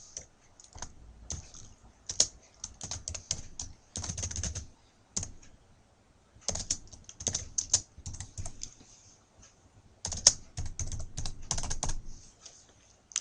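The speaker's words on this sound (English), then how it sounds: "I'm going to type my name with my details here." Typing on a computer keyboard while entering a name and candidate details, with bursts of rapid close key clicks separated by short pauses.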